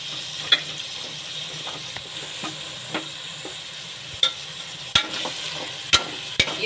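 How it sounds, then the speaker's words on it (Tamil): Coriander and green chillies frying in masala in a pan while being stirred, with a steady sizzle broken by sharp scrapes and clacks of the spoon, close and fairly loud. "இந்த மசாலில் ஏட்டு நம்ம அரிஞ்சு வச்சுருக்க மல்லிச்செடி, பச்சை மிளகா எல்லாத்தையுமே போட்டு வதக்கிடலாம் நல்லா."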